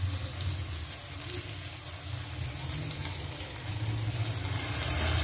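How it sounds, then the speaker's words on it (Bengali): Water splashes into a hot pan of chicken cooking in milk as a spice bowl is rinsed out, a steady sizzling, pouring wash with a low hum underneath that grows a little louder toward the end, with no talk. "এই যে জলটা দিয়ে মশলার বাটিটা ধুয়ে দিয়ে দেবো"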